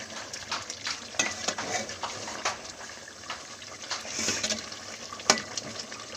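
Thick masala for aloo kofta being sautéed and stirred in a pan until its water dries out, giving a soft continuous sizzle with scattered scrapes and clinks of a spoon against metal.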